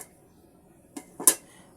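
A lid is set onto a pot of simmering kochur loti (taro stolons): a faint clink, then a short scrape and a sharper metallic clack, close and brief, in near silence.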